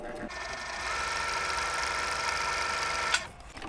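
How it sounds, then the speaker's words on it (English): Sewing machine running steadily while stitching half square triangle units for a sawtooth star quilt block, a close continuous motorized whir that holds for about three seconds before stopping with a small click. "Let's go ahead and stitch just to the inside of the stitch line."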